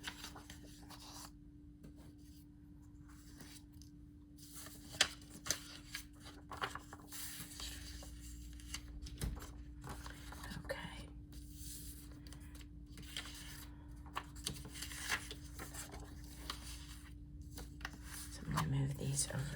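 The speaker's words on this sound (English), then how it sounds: "You're going to hear me shuffle around constantly, trying to figure out where I want to go next." Paper ephemera pieces shuffled and slid around on a tabletop make soft, close rubbing and rustling with occasional light taps, quiet and intermittent over a steady low hum.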